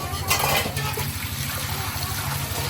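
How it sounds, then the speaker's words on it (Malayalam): Water poured into a cooking pot for biryani rice, a short steady splashing gush with a bright burst at the start, settling into a quieter continuous trickle. "ഇനി വെള്ളം ഒഴിച്ച് കൊടുക്കണേ"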